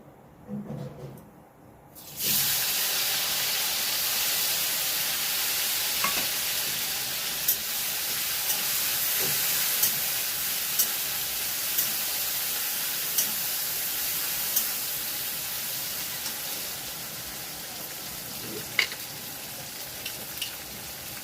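Tomatoes go into hot oil in a home kitchen pan, setting off a loud, sustained close sizzle and hiss that continues steadily, with occasional small pops and spatters.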